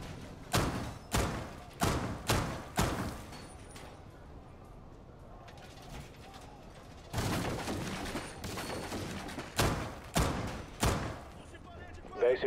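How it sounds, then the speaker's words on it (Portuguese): Heavy thuds and impacts ring out in a competitive tactical shooter match, landing in a rapid cluster, then pausing before a second burst of spaced knocks, loud and close. "Reforço da parede."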